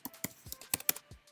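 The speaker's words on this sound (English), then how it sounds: "I'm having trouble typing right now, folks." Keystrokes on a computer keyboard during a pasta timer app build: a short run of irregular clicks and taps, close and fairly distinct, with uneven gaps between strokes and no talking.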